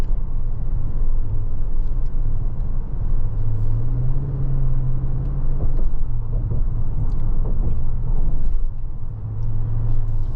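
Steady low road rumble and engine hum from inside a 2025 Chevrolet Suburban LS cruising down the road, continuous and fairly loud with slight changes in pitch.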